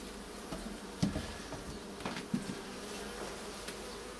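Honey bees hum steadily around an apiary hive during spring beekeeping work, a continuous buzzing drone with a few brief soft knocks and handling noises close by.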